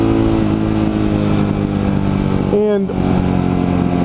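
An ATV quad's engine drones steadily and close throughout, a constant mid-pitched hum with no sharp revs, while someone talks over it.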